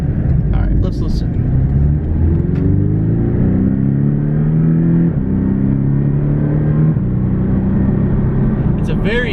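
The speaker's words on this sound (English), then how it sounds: "now we'll just go ahead and open up that exhaust. You can hear it burble a little bit deeper now" Porsche 718 Cayman S with its exhaust opened, accelerating down a straightaway: a deep, loud engine rumble with rising and falling harmonic sweeps as it revs through the gears, steady and close for the whole stretch.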